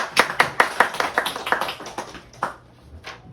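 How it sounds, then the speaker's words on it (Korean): A small group of adult students in a Korean social work practicum class applauding a fellow classmate, a short burst of roughly a dozen crisp claps that thins out and stops, fairly close, with little talk. "이슬기 선생님 박수"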